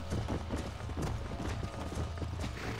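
Horse hooves clip-clopping steadily in the Red Dead Redemption video game, a loud, continuous rhythmic trot with dense overlapping hoofbeats.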